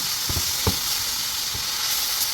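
Steady sizzling of cabbage frying in olive oil in a pan, a constant hiss with a few soft clicks and pops.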